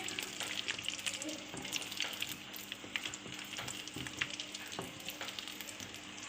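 Chicken momos fry on low heat with a steady, soft sizzle and fine crackle of oil, continuous and close with occasional faint clinks.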